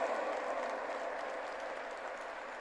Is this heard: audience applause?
yes